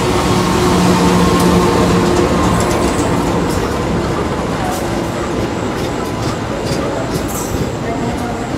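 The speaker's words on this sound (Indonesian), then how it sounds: "Ternyata yang masuk di jalur 2 adalah kereta api Parsel Tengah dengan tujuan Air Kampung Bandan" Parsel Tengah freight train bound for Kampung Bandan rolls into line 2 at a station, a steady loud rumble of wagons with rail clatter and squeals throughout, voices faintly mixed in.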